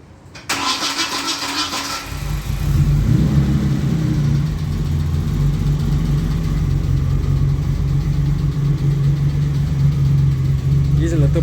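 A car engine cranks and fires at its first startup after restoration work, then settles into a steady, loud idle with a slight exhaust drone, close to the microphone and without talk.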